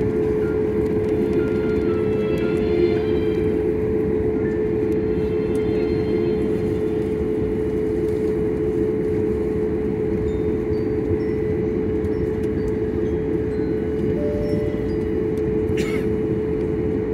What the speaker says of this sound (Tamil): சிங்கப்பூர்லேருந்து டேக் ஆஃப் ஆகுது.